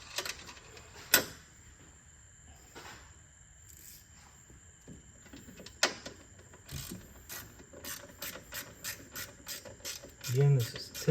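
Ratchet working a 10mm bolt loose while installing intake manifold covers on an LT6 engine, a run of quick clicking strokes up close with a few clanks of metal before it.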